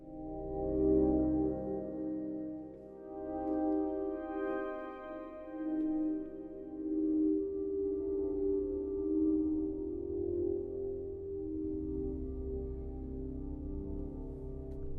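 Ominous synth pad from the Quantum Kontakt instrument, preset Swallow the Sky: a dark, sustained drone with layered low tones that swells and shifts slowly, playing alone at a steady moderate level.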